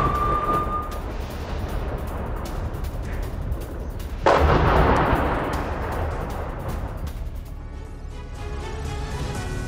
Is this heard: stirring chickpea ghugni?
no